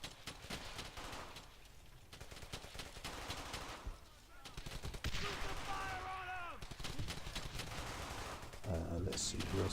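Automatic rifle and machine-gun bursts crackle from a squad in the World War II shooter Brothers in Arms: Hell's Highway, dense repeated volleys with explosions and game effects, a voice talking over them.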